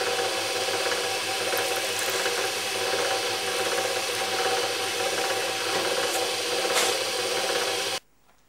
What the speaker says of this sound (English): we drill a hole in the centre of the cork